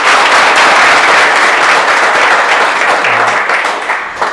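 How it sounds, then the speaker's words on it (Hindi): A large audience at a motivational session for Air Force aspirants breaks into loud, sustained applause that fills the whole stretch and eases off slightly near the end. "तो एक बार जोरदार ताली यार अपने मारो।"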